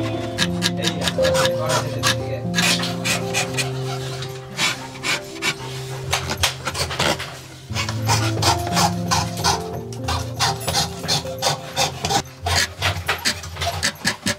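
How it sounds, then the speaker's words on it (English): A sharp graver knife scrapes and taps at rosewood inlay artwork in Mysuru with dense, rapid ticking strokes. Sustained low tonal hums sound underneath, steady and close throughout. "there is something called the graver, where we use the very sharp knife to do the detailing of the artwork"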